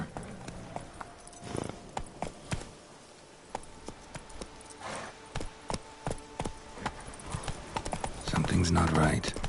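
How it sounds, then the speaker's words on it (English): Hooves of the horse Roach in The Witcher 3 clip-clop in a quick, regular galloping beat, close and clear, while a voice speaks over the run and a louder burst of game sound rises near the end. "Run, Roach."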